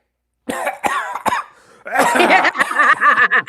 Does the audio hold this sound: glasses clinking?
no